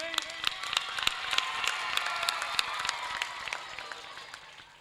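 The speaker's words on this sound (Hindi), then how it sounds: "भैया पत्रकार बंधुओं का ताली बजाकर स्वागत करें" A crowd claps in welcome at an Independence Day event at a school, bursts of hand claps ringing out over a busy, reverberant crowd murmur and faint shouts before slowly fading.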